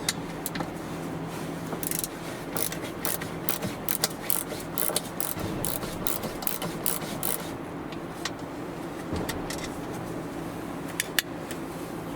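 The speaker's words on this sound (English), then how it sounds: "We'll need to use 10mm socket to remove this bolt, and for the other two we'll need 8mm socket." Rapid ratcheting of a 10mm and 8mm socket wrench loosening bolts inside a Volvo XC, dense close clicking bursts over a steady mechanical background hum.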